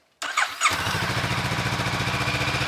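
A Honda CB500X motorcycle engine cranks with a brief starter whine, catches, and settles into a steady, even idle after an oil change, heard up close with no talking.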